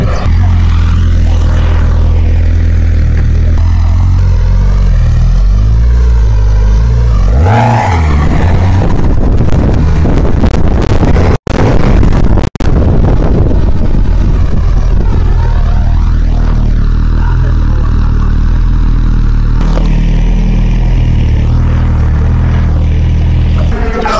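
Suzuki GSX 1000 motorcycle on a test ride, its engine roaring loudly and continuously up close, with rising and falling revs as it accelerates and shifts.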